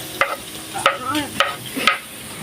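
Onions tossed into a hot pan with shrimp paste, stirred with a utensil in a few sharp scraping strokes over a soft, steady sizzle of frying.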